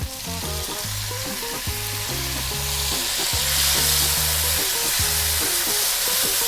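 Onion and tomato sauté in a pan with garlic and ginger for Filipino tofu noodles, giving a steady, close sizzle with occasional stirring over tonal background music.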